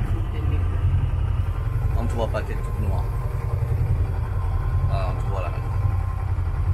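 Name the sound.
boat engine running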